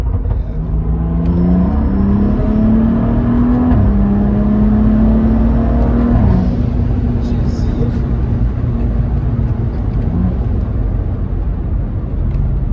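A Stage 2 tuned BMW F30 335i engine revs hard and climbs steadily in pitch, a loud sustained droning pull with a brief drop partway through.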